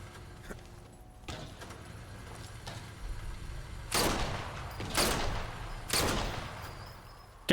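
In the Sniper Elite 4 video game, three sharp, loud gunshots ring out about a second apart at a lamp, each with a booming echoing tail over low background ambience.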